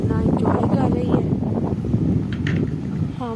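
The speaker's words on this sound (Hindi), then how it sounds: "बहुत अच्छी हवा चल रही है" Outdoor wind buffets the microphone steadily during a family barbecue outing, a dense continuous rumble with voices talking underneath.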